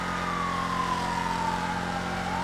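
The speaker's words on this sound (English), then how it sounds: "I hear other sirens now." A police siren in a video game sounds as a single steady, slowly falling wail over a constant low engine drone, moderately loud and without talk.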